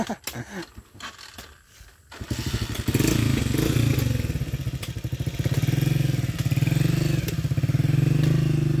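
A Rusi motorcycle engine starts up and runs with a rapid, chugging idle, close and loud, revving slightly in waves after a brief clattering start.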